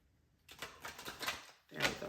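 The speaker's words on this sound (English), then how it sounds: "let's get a good shuffle" Tarot cards riffled and shuffled in quick, soft papery bursts, two close, faint runs separated by a short pause.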